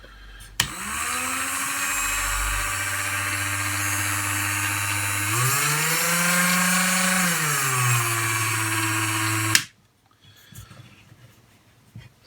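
Dremel rotary tool mounted in a Dremel 220 Workstation starts with a click and runs at a steady high-pitched whine, its speed rising briefly midway and settling back before it switches off abruptly, followed by quiet handling noises.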